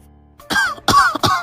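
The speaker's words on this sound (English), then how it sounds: "Clear my throat." A person clears their throat in several rough, forceful bursts, close and loud, with no talking.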